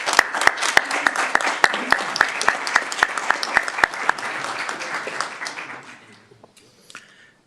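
Audience at a city council meeting applauding, a steady dense clapping with several sharp close claps, fading out near the end.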